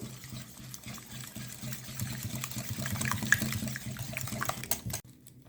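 Liquid ingredients being stirred together in a bowl for cauliflower patties, a steady wet swishing and sloshing, moderately loud and continuous for about five seconds before stopping abruptly.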